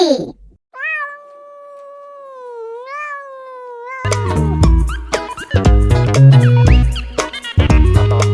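A long, drawn-out cat meow sounds clearly on its own, and then loud, busy music with sung notes comes in over it.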